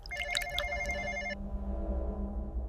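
A telephone rings as a sound effect in a horror story, giving a rapid trilling bell for just over a second, then a low hum carries on alone, fairly quiet.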